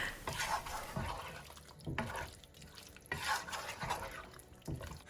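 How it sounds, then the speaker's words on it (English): Peas and paneer curry (masala matar paneer) stirred in a pan with chopped paneer just added: wet, thick scraping strokes repeat about once a second, close and moderately loud. "A good quick stir."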